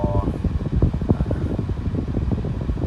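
The air-conditioning fan runs inside a 2011 Honda Accord 2.4 EL i-VTEC sedan, giving a steady, close, whooshing blower drone throughout, with a faint voice-like sound at the very start.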